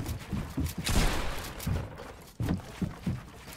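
Rapid bursts of gunfire from a shooter video game, a 1v1 match between Ghost players, crack out in clustered volleys with short pauses between them, loud and close with no talking.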